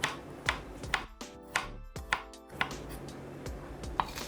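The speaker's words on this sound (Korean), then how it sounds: "제거가 완료된 마늘을 얇게 슬라이스 해주세요." A kitchen knife thinly slices peeled garlic cloves on a cutting board for gambas, with sharp, evenly spaced chops about every half second, close and clear with no talk.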